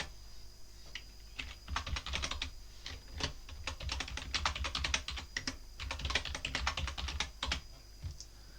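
Typing on a computer keyboard while entering a username and password during a Linux Lite virtual machine setup, with steady, close, quiet key clicks in uneven runs and short pauses.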